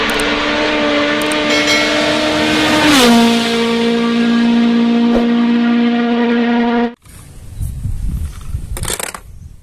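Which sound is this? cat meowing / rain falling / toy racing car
toy racing car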